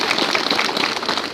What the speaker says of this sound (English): Please clap well.